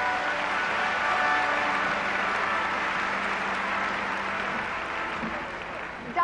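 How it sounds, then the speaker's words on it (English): An audience at a 1975 Kathryn Kuhlman healing service in Las Vegas gives sustained applause, a dense, even wash of clapping that holds strong for several seconds and then eases slightly near the end. "Give her a great big applause."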